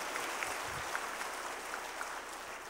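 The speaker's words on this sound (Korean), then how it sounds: "우리 뜨거운 박수로 축하합시다." Distant, soft clapping from a church congregation at a Sunday service, a steady diffuse patter at low volume with no voices over it.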